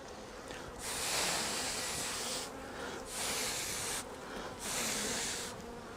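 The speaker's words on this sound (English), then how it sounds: "Lots of bees." Honey bees swarm densely over frames lifted from an opened spring hive during a split, their buzzing a steady close hum that swells in loud hissy bursts and then eases back.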